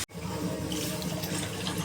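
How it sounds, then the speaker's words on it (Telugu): Water pours into a cooking pan in a home kitchen, a steady, fairly loud splashing stream that runs unbroken for about two seconds close by. "ఇలా బాగా కలిపిన తర్వాత కొద్దిగా వాటర్ అయితే వేయండి."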